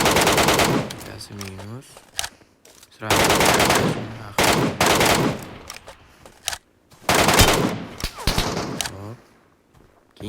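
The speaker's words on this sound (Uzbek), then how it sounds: "4 kishi oxirdagi odamni otaman men" Bursts of rapid machine-gun fire in a squad shootout video game, loud and close, coming in three long volleys with short pauses between them while someone talks excitedly over the shooting.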